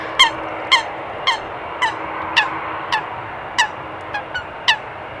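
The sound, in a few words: birds chittering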